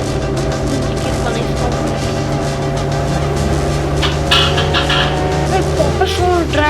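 Mobile GTA 5 car driving with a steady revving engine tone and shifting pitch, some skid and squeal near the end, loud and continuous, with faint voices mixed in.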